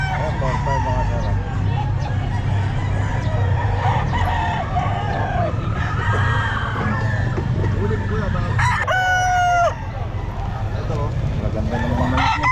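Chickens and roosters at a pet market cluck and crow repeatedly, with one loud, close crow standing out, while people chatter in the background.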